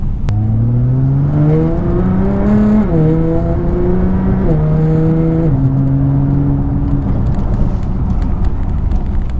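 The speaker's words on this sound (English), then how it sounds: "a road that I might be able to get up to 60 miles per hour and brake hard." A car with semi-metallic brake pads accelerating hard toward 60 mph on a road, its engine climbing through several gear shifts, loud and close inside the cabin before easing off, with no talking.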